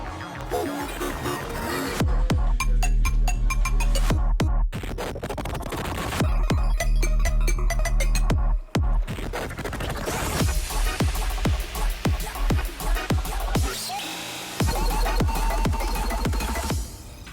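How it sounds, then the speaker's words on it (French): Dense electronic dance music from the Beat Saber VR rhythm game plays loud and steady, with punchy beats and brief breaks, in the background of a presentation at a digital-week event. "Et vous pouvez entendre en fond la musique que je vous montre tout de suite."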